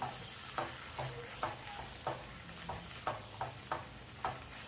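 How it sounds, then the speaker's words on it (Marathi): A spoon works through chickpea usal with tomatoes in a pan, making a regular series of close scraping and clacking stirs over a soft, steady sizzle, with no talk. "हे चांगलं मिक्स करून घ्यायचे आपल्याला"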